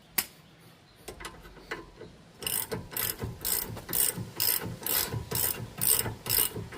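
A torque wrench ratchets on a bolt of a 2017 Mercedes-Benz during front sway bar link work, starting with a few sparse clicks, then a run of rapid, close ratcheting bursts in a steady rhythm.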